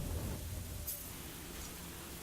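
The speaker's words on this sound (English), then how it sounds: "It's raining." Steady rain falls in the racing game The Crew, a soft, even hiss of moderate loudness that runs unbroken throughout with no other distinct sounds.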